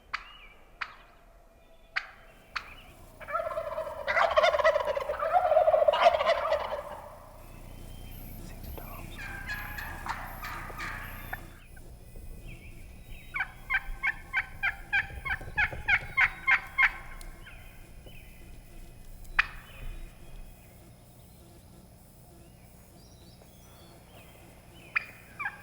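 A wild turkey gobbles on public land during a spring hunt, a loud rattling burst followed later by another gobble, set against quiet woods with sharp clicks and snaps scattered throughout.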